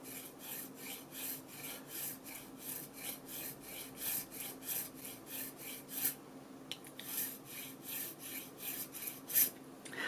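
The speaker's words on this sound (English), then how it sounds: "And then again just get pretty close with the file." A hand file rasps steadily across a bone guitar nut held in a vise, giving close, rhythmic back-and-forth strokes at an even pace with brief pauses.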